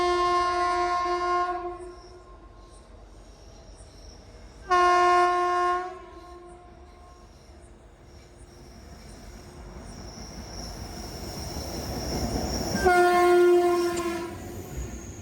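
A WAP7 electric locomotive sounds repeated loud horn blasts as it approaches hauling the Chennai–Bengaluru Shatabdi Express, its rumble and wheel noise growing louder toward the end.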